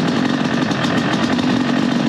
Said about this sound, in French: accélérer progressivement et que la moto s'habitue